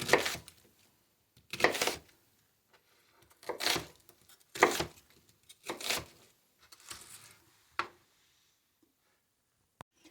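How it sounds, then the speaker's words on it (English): A kitchen knife chops onions into half-inch cubes on a cutting board for a breakfast skillet. Eight crisp, separate cuts come at an irregular pace, close and fairly quiet, with silence between them. "We're going to cut it into about 1/2-inch cubes. And we're going to do that for both of our onions."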